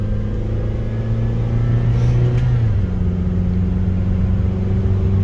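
Cabin drone from a Honda car cruising on budget coilovers, a steady low engine hum and road rumble with a slight pitch shift partway through, loud and continuous with no voices.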